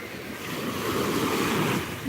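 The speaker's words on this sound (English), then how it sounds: "it's starting to get windy, just because I didn't put my microphone on" Steady broadband wind rumble buffets an unshielded microphone at Chuburna Beach in Yucatán, Mexico, with surf washing underneath, loud and continuous throughout.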